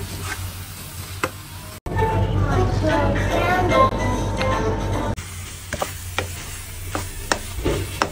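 Masala with tomatoes frying and being stirred in a pan for bhindi sabzi, a soft sizzle with scraping spoon strokes, louder in the middle stretch and quieter with sharp ticks of the spoon before and after.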